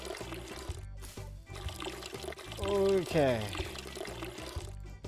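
Water pours and trickles onto plants in the game Weed Shop 2, a running, gurgling stream that swells in the middle, while someone talks briefly over a background music loop.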